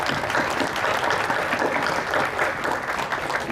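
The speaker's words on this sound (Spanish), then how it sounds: "Un fuerte aplauso para Dora Varona." Steady audience applause at a book fair in Trujillo, a dense, even clapping that fills the whole moment at moderate loudness with no voices over it.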